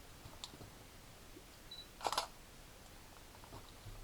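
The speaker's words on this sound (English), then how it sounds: "I'm going to tap the shutter release button again" A single-lens reflex camera's shutter release fires once in a quiet room, a short, crisp mechanical click-clack rising sharply above faint background hiss, with a few tiny button ticks around it.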